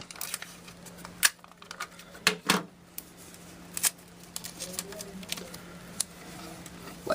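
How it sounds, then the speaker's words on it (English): Tape being pulled off a roll and pressed on near a semi-automatic cup sealing machine, with several sharp ripping bursts and scattered clicks and taps over a faint steady hum. "And I'm going to tape it."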